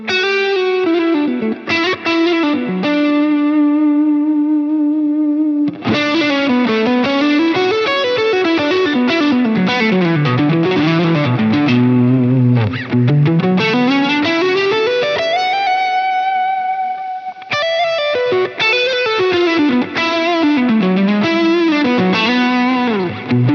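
An electric guitar runs through a Dude overdrive pedal, playing loud, sustained melodic lines and bends with a warm, driven tone, no talk.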